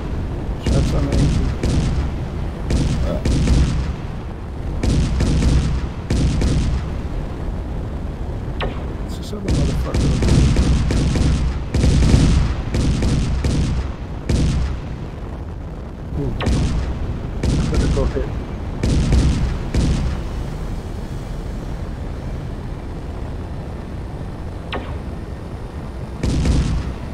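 Bursts of video game gunfire in SAS: Sigma Draconis, with loud repeated booming volleys coming in clusters and broken by short lulls across the stretch.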